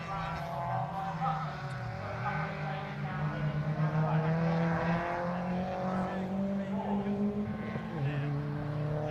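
Racing cars in an MG Cup race, a pack of engines droning and rising in pitch as they pass on the start-finish line, steady and fairly near, with a commentator talking over them.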